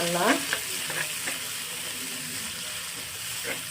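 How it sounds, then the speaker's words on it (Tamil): Shallots and crushed garlic stir-fry in a pan for a prawn and ridge gourd kootu, giving a loud, steady sizzle with a few spatula scrapes early on and no voices. "நல்லா கலர் சேஞ்ச் ஆகிற அளவுக்கு நல்லா வதக்கி எடுத்துக்கலாம்."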